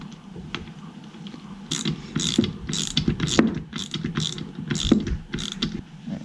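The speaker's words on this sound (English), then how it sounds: "hold down this tensioner and get this bolt going at the same time" Tightening the tensioner bolt during a bottom-end rebuild of a 2003 Honda CR250R: a hand ratchet clicks in a quick series of short, close strokes, about eight in a row, with no talking.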